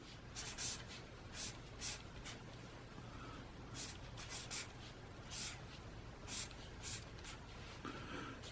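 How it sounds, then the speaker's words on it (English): Pen strokes scratch across a diary page in short bursts, close and quiet, with pauses between the written words and no talking. "And then I write on the second one"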